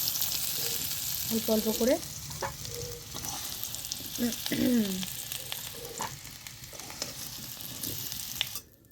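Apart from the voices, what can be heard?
potatoes frying in oil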